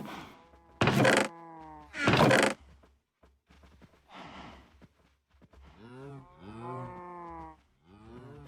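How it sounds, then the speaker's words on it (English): A Minecraft cow gives several drawn-out, low moos, mixed with two heavy blocky thunks near the start and quieter clicks between calls. "Moo, moo, moo. Moo, moo, moo, moo, moo."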